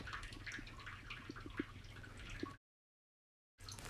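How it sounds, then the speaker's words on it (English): Liquid seasoning mixture with black pepper and dried thyme is poured over beef in a pressure cooker, giving soft trickling and dripping for a few seconds before an abrupt silence and a brief return. "Pour this mixture over the beef."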